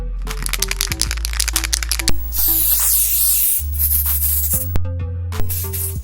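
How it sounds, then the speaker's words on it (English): Spray paint hissing loudly onto a baseball cap in long close bursts, with crackling and clicking of the can between sprays. "I figured it was pretty straightforward and just went ahead to spray my hat"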